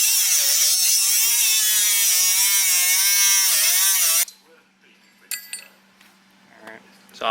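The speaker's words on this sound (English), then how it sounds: "so I'm grinding it off now." An angle grinder cuts a broken tail light bracket off a Honda Z50 mini trail frame, a loud, wavering high whine for about four seconds that stops abruptly, followed by a few faint metallic clinks.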